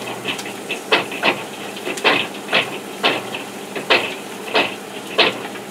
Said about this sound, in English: And then you take your garlic and put it in the food processor